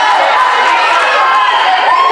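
A crowd cheers and shouts steadily and loudly at a school volleyball match in a gym, a dense continuous roar of voices close by, with no distinct words.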